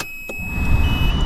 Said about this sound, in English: let me turn the car on here for you guys so you can see